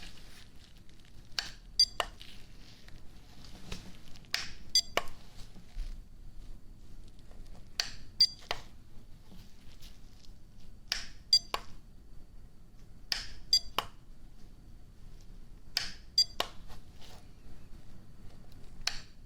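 Short electronic beeps for an ASMR hearing test in a mock medical exam, arriving in small clustered pairs every few seconds against a quiet, soft background.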